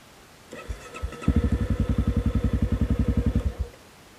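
A motorcycle being bump-started while rolling downhill in gear coughs, then catches into a steady, rapid chugging putter for a couple of seconds before cutting out, close and fairly loud.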